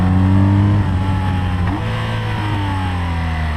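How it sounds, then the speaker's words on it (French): A 2021 BMW R Nine T motorcycle with Option 719 runs at steady engine drone while riding, a low boxer hum holding throughout with a slight pitch shift midway; distinct exhaust pops are hard to pick out under the continuous engine tone. "Et voilà, en dynamique, ça pétarade dans l'échappement."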